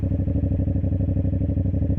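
A motorcycle engine chugs steadily in first gear with the clutch pulled in while braking to a stop, a loud, even low pulsing close by with no change in pitch.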